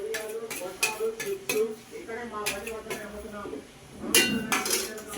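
Spices, bay leaves, shahjeera and salt are stirred into pulao in a pot of water, giving repeated scraping and clinking of a spoon against the pot over steady cooking noise, loud and close.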